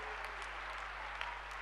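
A crowd at a gathering claps for the NDRF rescue force, producing a soft, even patter of applause heard from a distance.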